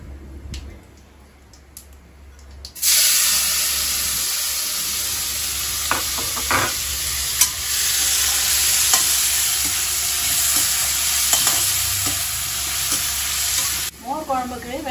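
Tomatoes sautéing in a pan for mor kuzhambu, a loud steady sizzle that starts abruptly and holds for about eleven seconds with occasional clicks of stirring, then cuts off, with no talking.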